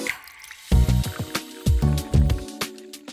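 Fish sauce poured for a Vietnamese nuoc cham dressing gives a few short, close liquid glugs and splashes in quick bursts, separated by brief quiet gaps, with no talk.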